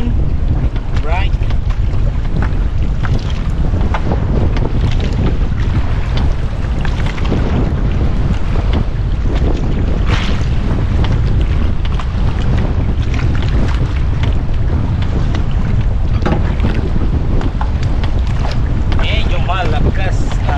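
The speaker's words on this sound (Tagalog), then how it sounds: "Medyo malakas ang hangin." Strong wind buffets the microphone in a continuous loud roar, with water and boat sounds underneath throughout, out on the sea while fishing for lobster.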